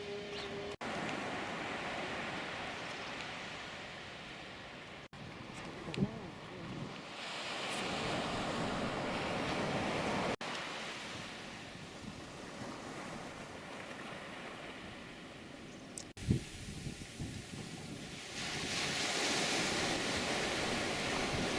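Surf on La Péroche beach at Dolus-d'Oléron, Oléron island, rolls in broad washes of breaking waves with gusts of wind buffeting the microphone, rising and falling over about twenty seconds with no voices.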